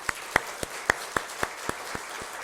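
Scattered hand claps from a church congregation, about ten distinct sharp claps spread unevenly over a couple of seconds, with light room noise between them.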